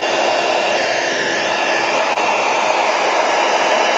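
A hair dryer blows steadily on a watercolor painting, a loud, even whooshing hum running alone with one tiny click in the middle.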